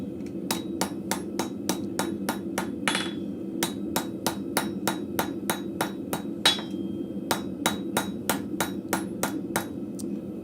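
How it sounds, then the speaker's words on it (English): A blacksmith hammers marks into hot metal at a forge, delivering a long steady series of sharp ringing strikes, loud and close, at an even rhythm with a brief pause midway. "So we'll just do the hammer marks on the rest of it."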